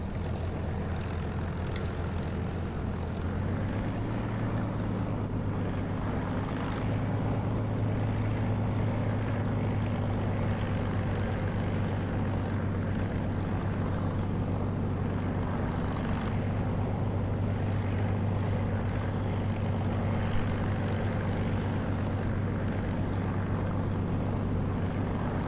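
An aircraft engine taxiing in the DCS flight simulator game drones steadily, a low propeller hum that deepens slightly a few seconds in and then holds constant, with no talk over it.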